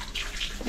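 Water splashes and pours as someone washes their feet, a short, close burst of running, sloshing water with no talking.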